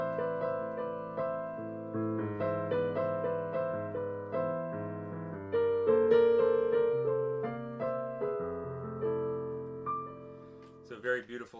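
Solo piano plays a bossa nova tune, a gentle rhythmic melody over soft chords with a steady lilting pulse, close and clear with no talking.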